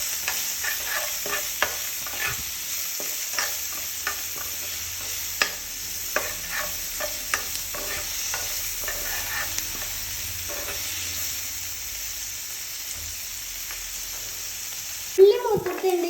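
Onions and curry leaves sautéing in a pan for a chammandi, a soft continuous sizzle with irregular scraping stirs of a spoon against the pan, ending in a louder clatter near the close.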